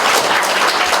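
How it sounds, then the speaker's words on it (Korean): An audience at a Korean invited lecture gives loud, dense, sustained applause for a National Assembly member, a continuous wash of many hands clapping. "여러분, 부천을 사랑해 주신 이재호 국회의원님께 감사의 큰 박수를 보내주시기 바랍니다."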